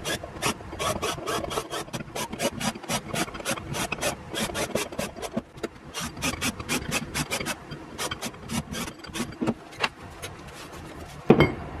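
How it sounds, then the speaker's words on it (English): Steady, rhythmic rasping strokes chamfer drilled holes in metal, each quick pass repeating at a brisk even pace, fairly faint and close by. "I'll take them over the bench and chamfer it"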